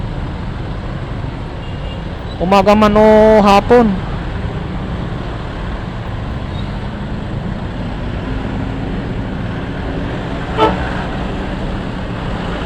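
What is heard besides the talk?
heavy street traffic after a typhoon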